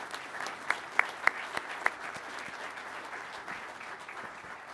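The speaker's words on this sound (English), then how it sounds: "join me in a round of applause for all of our instructor pilots" Light, scattered applause from a small crowd at a pilot training graduation ceremony, with a few sharper individual claps standing out early on, fairly distant and quiet.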